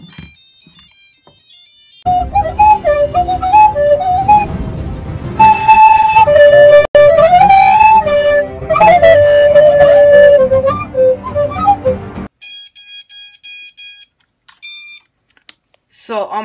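Electronic speed controllers on a quadcopter play a rising series of melodic musical beep tones at power-up, a tune over a low hum followed by several short repeated high beeps.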